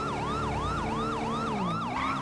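A police car siren in GTA 5 with a police mod cycles steadily in a fast rising-and-falling yelp. It stays loud and close over a low vehicle hum, and the pattern shifts slightly near the end.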